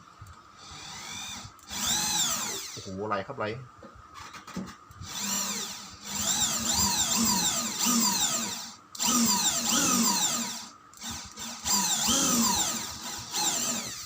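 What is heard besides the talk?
power drill drilling into Nissan Frontier tail light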